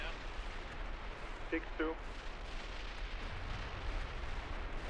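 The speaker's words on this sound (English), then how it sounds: "our previous position's getting hit by rocket fire" Rocket artillery fire in the tank simulator Steel Beasts Pro PE, a dense continuous rumble of distant impacts rolling under radio chatter, with brief voices cutting in midway.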